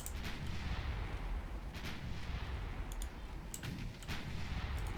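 Warship gunfire in a naval battle in Ultimate Admiral Dreadnoughts: a dense, continuous low rumble punctuated by repeated heavy booms about every second, loud and without talk.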